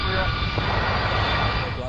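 A LOT Polish Airlines airliner descending over Warsaw, a loud, steady broadband engine roar and rush of air filling the whole moment, with a voice speaking over it.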